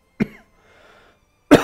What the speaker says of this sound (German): So, mein Husten kommt zurück